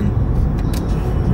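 Road traffic in Miami, with a steady, loud car and engine rumble filling the whole stretch, occasional brief hiss of passing vehicles above it, no voices.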